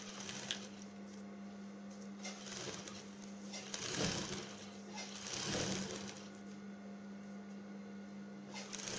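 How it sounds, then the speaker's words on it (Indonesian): A sewing machine hums steadily at low volume while stitching a ruffle for a bedcover, with a few faint surges in pace. "Saya jahit dulu."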